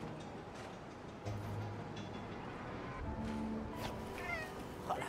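A cat in the game Spider-Man: Miles Morales meows a few times over a busy, cluttered background of game sounds and music, the cries fairly faint and brief.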